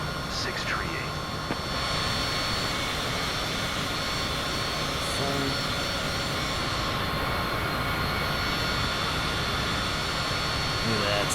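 In a flight simulator game, an airplane climbs out of Seattle just after takeoff with its landing gear retracted. The engine drone is loud and steady and continues without a break through the whole stretch.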